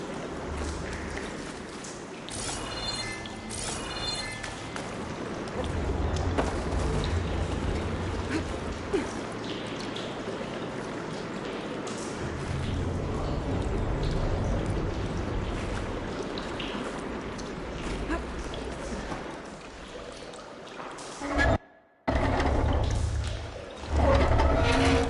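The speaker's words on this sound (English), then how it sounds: "Aloy, I can hear water in the room again." Water rushes and trickles steadily through pipes in a video game, a continuous flowing hiss that carries on for a long stretch before a brief cutoff.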